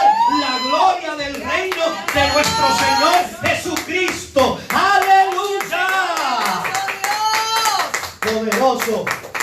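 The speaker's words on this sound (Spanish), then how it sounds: "aplauso" Applause during a Spanish-language church service: rhythmic clapping under continuous sung or spoken voices with strong tones, close and loud throughout.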